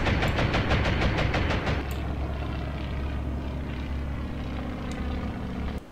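Dive bomber aircraft in the naval strategy game Atlantic Fleet, a loud, steady engine roar that drones continuously and thins slightly after the opening seconds, heard alone with no talk.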